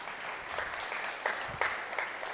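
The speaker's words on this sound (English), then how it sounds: "Please, applause, come on." An audience at a Clojure programming conference talk applauds steadily, a moderate, even wash of clapping at middle distance with a few sharper bursts, no voices over it.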